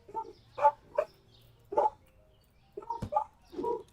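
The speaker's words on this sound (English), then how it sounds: "Please excuse the barking." Dogs bark in a handful of short, separate bursts spread over a few seconds, moderately loud against a quiet background with no talking.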